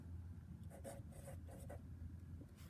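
Marker or pen scratching out a math equation on a board, a run of soft rubbing strokes in quick bursts over a steady low hum, close and faint.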